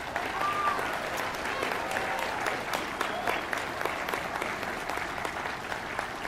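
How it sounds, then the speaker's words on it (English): A large crowd applauds graduates at a college commencement ceremony, a dense wash of many hands clapping with a few whoops mixed in, sustained for several seconds. "Let's give our graduates a round of applause."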